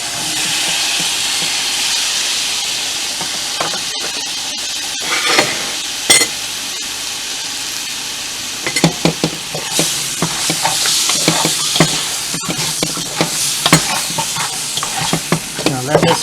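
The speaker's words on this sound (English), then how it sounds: "Now let this fry up a bit." Tomato and okra frying in a pot for Guyanese hassar curry, a loud continuous sizzle and hiss with repeated stirring scrapes growing busier in the second half.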